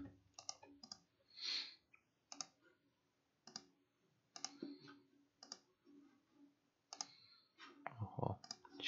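Sharp mouse clicks from drawing lines in CAE software, arriving in scattered single and paired taps with short pauses between them, close and fairly quiet, with a faint voice murmuring in the background.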